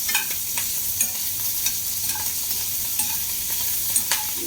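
Chillies and curry leaves frying in a pan, a steady bright sizzle with regular light scrapes of a spoon stirring through them, close and even throughout.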